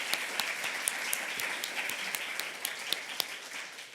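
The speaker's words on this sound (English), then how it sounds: "So please give a round of applause to those in the room that made this event happen." An audience applauding in a room at an academic conference, steady and moderately soft clapping with sharper individual claps standing out, sustained for several seconds.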